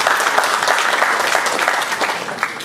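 Steady applause from an audience for the puppeteer at a Balinese Wayang Cupak shadow-puppet performance, loud and continuous clapping with a faint crowd murmur.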